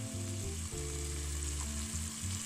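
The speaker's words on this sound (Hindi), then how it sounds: "अब इसको हम थोड़ी देर फ्राई करेंगे 2 से 3 मिनट तक" Whole spices and ground masala fry steadily for fry bhindi masala, giving a dense, continuous sizzle close up, with a low hum underneath and no talking.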